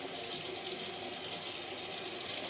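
Tap water runs steadily into a sink as hands and arms are washed ahead of a surgical scrub, a constant close splashing hiss for the whole stretch with no voices.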